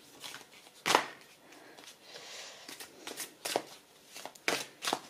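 Tarot cards of a love-themed oracle deck being shuffled by hand, several crisp riffling bursts and soft slides spaced irregularly, close up and otherwise quiet.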